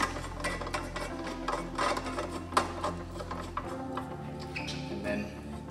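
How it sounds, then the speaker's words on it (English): A bed leg on an adjustable bed frame is screwed back in, giving close clicking, ratcheting and scraping mechanical sounds in an irregular rhythm. "putting the leg through the slot, and screwing the leg back in."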